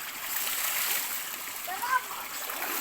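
Water splashing and streaming in a cold spring-fed bathing pool, a steady broadband wash with a brief louder splash near the end.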